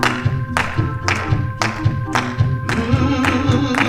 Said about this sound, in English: Come on and clap your hands like this.